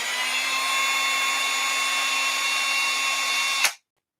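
A powerful cordless drill with a Milwaukee multi bit bores through material in a close, loud, steady high whine. It holds for nearly four seconds, then cuts off sharply into silence.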